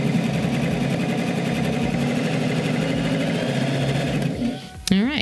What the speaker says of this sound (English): I'm going to put my foot down and we'll just do a straight stitch.